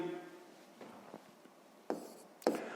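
A pen writes the second step of a sixth-grade maths solution, giving faint scratching strokes and a few sharper taps against the paper in a quiet room.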